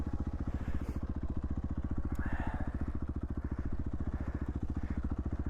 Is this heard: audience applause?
no